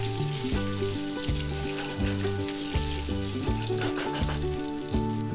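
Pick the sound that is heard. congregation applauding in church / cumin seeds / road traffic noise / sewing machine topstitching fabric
cumin seeds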